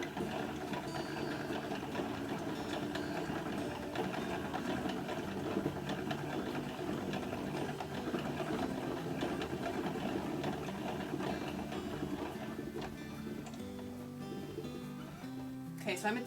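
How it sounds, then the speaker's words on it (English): A ball winder on a sheep farm winds yarn into a compact cake with a steady mechanical whirring and rattle. It runs continuously for the whole stretch, close by and fairly loud. "Wind it up onto my ball winder."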